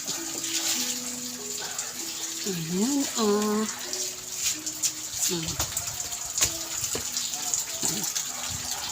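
A forceful, steady spray of water gushes and splashes against an air conditioner being cleaned while a person talks over it.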